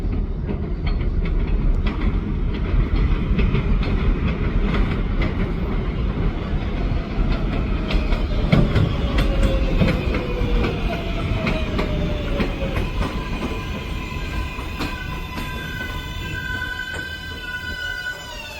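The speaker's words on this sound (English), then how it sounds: "There is a Manhattan-bound Local 7 train to 34th Street, Hudson Yards. Approaching the station," A Manhattan-bound 7 local subway train pulls into the elevated 40th Street station on the Flushing Line, steady loud rumble and wheel clatter throughout, with squealing brakes and rising screeches building as it slows near the end.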